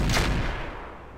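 Weapon fire in the mech game Roguetech, a BattleTech mod: a single heavy booming shot bursts at once, loud and broad, then rolls away into a fading rumble over about a second, with no voices.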